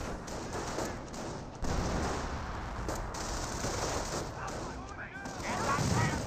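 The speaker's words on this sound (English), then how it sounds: "Incendiary grenade has been thrown" Sustained rattling gunfire and bursts of battle noise from a Company of Heroes match, with an incendiary grenade going off among rifle squads, dense and continuous with a louder swell partway through.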